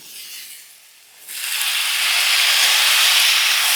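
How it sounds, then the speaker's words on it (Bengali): Malabar spinach flowers frying in a pan give off a loud, steady hissing sizzle that surges in after about a second and holds strong to the end. "এবার এটাকে আরেকটু ভাজবো"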